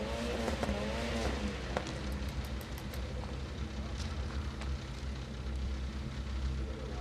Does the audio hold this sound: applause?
no